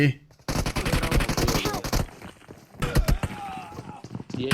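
Rapid automatic gunfire in a video game battle, dense bursts of shots close up for about two seconds, then scattered single shots and more bursts, with someone talking over the fighting.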